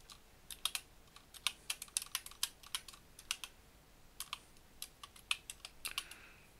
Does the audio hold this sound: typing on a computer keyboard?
yes